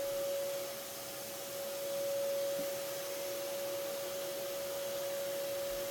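Vacuum cleaner sucking up a yellow jacket nest, giving a steady whining drone with a fixed tone, held close and continuous throughout with no talk.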